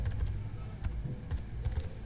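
Keys tapping on a computer keyboard while a mobile number is entered into an online form, a steady run of light clicks in short bursts, close and moderately quiet with no talking.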